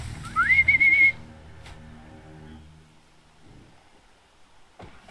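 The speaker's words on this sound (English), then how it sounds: "This whistling is pretty accurate." A rising whistle in the video game Horizon Zero Dawn, a clear tonal call that climbs and then holds steady for about a second near the start, followed by faint game ambience and rustling.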